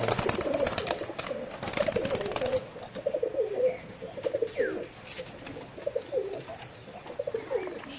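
Pigeons, including Andhra breed birds, coo repeatedly in low, throaty bursts, close by, with a steady background hiss and a few brief chirps.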